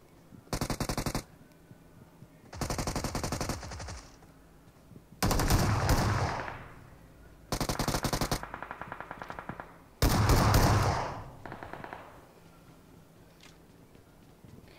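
Automatic gunfire in the BGMI (PUBG) mobile battle royale game, five loud sustained bursts of rapid fire separated by short pauses, close and dominant with no talk.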